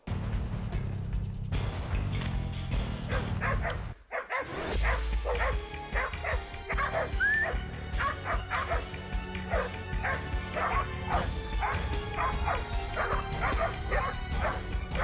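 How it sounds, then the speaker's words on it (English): Several hunting dogs bark in sharp, repeated bursts at a steady rhythm during a wild boar hunt, loud and close, echoing through trees outdoors after a brief pause. "sharp, relentless barks echoing through the trees"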